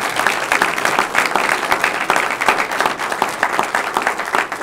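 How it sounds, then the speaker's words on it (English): A conference audience applauds a Google speaker taking the stage for a talk on the Internet of Things, steady, dense clapping that holds at full strength throughout. "I always get nervous when people clap before you've said anything"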